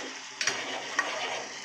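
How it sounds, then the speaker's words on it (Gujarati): A spiced chutney tempering sizzles in hot oil in a home kitchen, a steady soft frying hiss with a couple of faint clinks from stirring. "હારું હાર આપણે અહીંયા ચટણી વઘાર"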